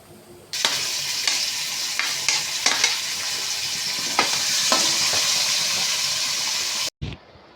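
Oil heats and sizzles in a pan for potti curry, Kerala style: a steady loud frying hiss with scattered crackles and pops that runs throughout, cut off abruptly near the end, with no voices.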